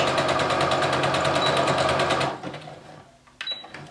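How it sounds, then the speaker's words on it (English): A sewing machine runs a fast zigzag stitch close to a fabric edge, a loud steady rattling whir that cuts off after about two seconds, followed by a couple of small clicks. "Just zigzag pretty close to the edge."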